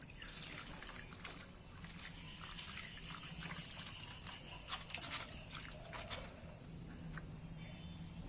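Spice leaves are washed by hand in water, with continuous close trickling, splashing and dripping over faint background noise.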